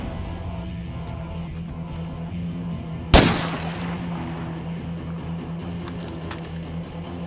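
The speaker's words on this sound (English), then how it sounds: "Shooting." In the zombie-survival game State of Decay 2, a single loud gunshot cracks out midway, its echo fading over a quiet droning ambient background.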